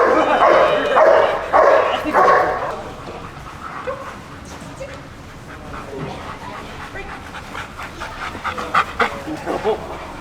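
A reactive German Shepherd barks in a burst of loud, close woofs, then pants and whimpers with a few sharper yips later, while people talk over it.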